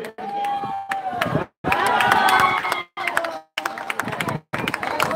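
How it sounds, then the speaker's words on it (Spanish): A crowd at a live festivity cheers and applauds in loud bursts broken by short gaps, with shouting voices mixed into the clapping. "El aplauso para Fernando Allende, nuestro padrino en esta festividad."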